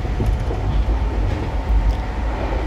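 A Paris metro train running, a steady loud low rumble with continuous rolling noise and no voices throughout.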